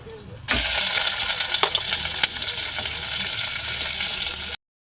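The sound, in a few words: fish frying in oil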